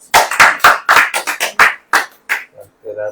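About a dozen sharp, loud hand claps ring out in a loose rhythm at a church service, then taper off as a voice begins speaking.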